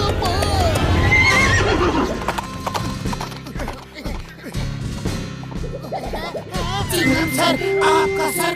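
A horse neighs and its hooves clip-clop, close and loud, with crashing knocks and voices of people talking mixed in.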